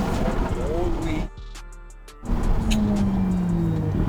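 A Gintani twin-turbo Ferrari F8 roars loudly nearby, its engine and exhaust pitch rising and falling through revs. It drops briefly to a quieter lull with a tonal whine before surging again.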